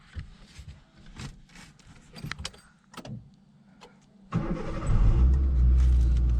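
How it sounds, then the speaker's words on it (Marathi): A Hyundai Santro Xing car starting up after a few seconds of interior clicks and handling sounds: the engine turns over abruptly and settles into a loud, steady close idle rumble. "तो स्टार्ट करते हैं गाड़ी"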